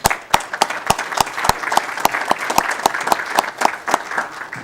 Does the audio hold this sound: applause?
yes